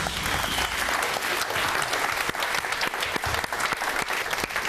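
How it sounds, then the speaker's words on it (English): Dense studio audience applause on a television game show, steady and loud throughout with a few sharper individual claps standing out near the front. "And the applause says it all."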